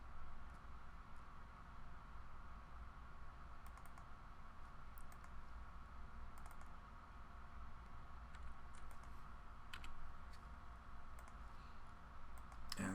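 Computer mouse clicking while working in a spatial modeler program, a scattering of faint, crisp clicks in small clusters and pairs over a steady quiet room hum.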